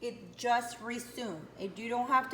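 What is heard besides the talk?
No everyday noises stand out.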